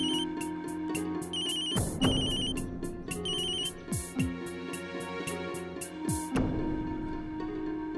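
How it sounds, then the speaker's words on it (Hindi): A phone ringtone plays loudly in repeated electronic bursts, with a melodic ringing pattern that cuts off near the end; no voices are heard. "प्लीज एक बार तो फोन उठा लीजिए।"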